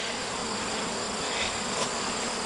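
Bees hum densely around the exposed top of a hive being extracted from a bee tree, a steady, even buzz with no talk.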